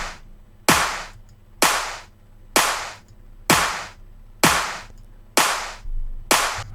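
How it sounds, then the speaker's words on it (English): Sharp, punchy clap hits repeating about once a second, each with a booming low-frequency thud and a quick decay, loud and isolated. "you wouldn't want the low end of the clap to thud"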